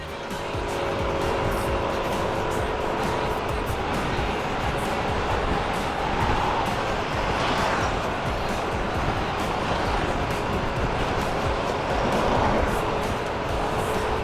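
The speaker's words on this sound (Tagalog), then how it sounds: "sobrang lakas ng hangin dito" Strong wind buffets a motorcycle vlogger's microphone while riding along a national highway, a constant loud roaring rumble filling the whole stretch with passing-traffic noise underneath.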